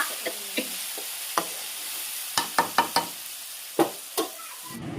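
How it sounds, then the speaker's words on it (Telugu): Masala paste for stuffed eggplant curry frying in hot oil until browned, with a steady background sizzle punctuated by about a dozen sharp spoon scrapes and knocks against the pan, close and fairly quiet. "మిశ్రమాన్ని నూనెలో బ్రౌన్ కలర్ వచ్చేంత వరకు వేయించుకుందాం"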